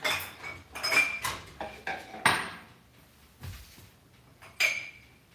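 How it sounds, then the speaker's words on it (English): Dishes and cutlery clatter and clink as they are put away after a dishwasher cycle, a run of close, sharp metallic and ceramic knocks that thin out to a few scattered clinks. "I should also put away my dishes."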